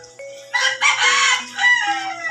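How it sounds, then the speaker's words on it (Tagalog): A rooster crows loudly and nearby, one long drawn-out cock-a-doodle-doo with rising and falling pitch. "Yan, may manok pa."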